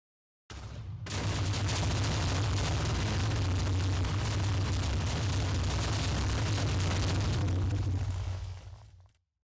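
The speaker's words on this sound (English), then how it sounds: "It's like I explode a bunch of TNTs" A dense, continuous roar of massed TNT blocks detonating at once in a Minecraft clone game, a thick rumbling wall of blasts that starts abruptly, holds steady for about eight seconds, then cuts off.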